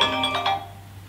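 Phone ringtone, a short electronic melodic chime of a few bright notes ringing briefly and fading, fairly close and alone.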